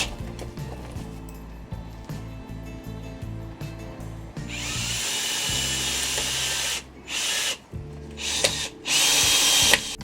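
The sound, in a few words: power drill driving screws into hydroponic bench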